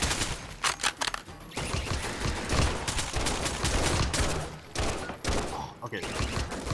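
Rapid turret gunfire in a Roblox alien-encounter game, dense bursts of automatic shots crackling continuously with brief gaps, fairly close and loud, with some voices mixed underneath.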